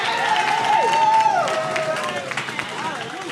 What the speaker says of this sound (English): Clap for them one more time.